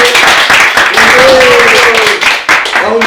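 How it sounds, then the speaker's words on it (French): A game show audience claps for the winner, Benjamin: loud, close applause throughout, with voices cheering and talking over it. "je vous demande d'applaudir notre gagnant qui est Benjamin"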